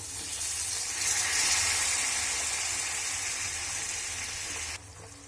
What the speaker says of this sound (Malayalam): കുറച്ച് ചൂടുവെള്ളം ഒഴിക്കാം